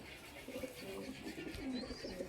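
Soft, close cooing from a Sialkoti high flyer pigeon, a few low murmuring coos over a steady faint background hiss, with no talking.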